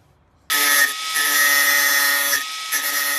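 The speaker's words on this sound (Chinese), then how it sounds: "这个坎必须把它磨了才能取出来" A grinder cuts away a metal lip to free the steering bearing from a Citroën C4L steering wheel, starting suddenly and running as a loud, steady, close high whine with a brief dip midway.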